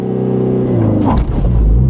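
A sporty car launched at full throttle from a standstill, its engine note climbing steadily in pitch as it accelerates hard, loud and close, with a rising rev sweep and a brief dip near the end.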